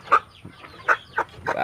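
A chicken sick with coryza, its face swollen and nose running, gives several short, close clucks in an uneven rhythm, with a rougher, breathy sound near the end.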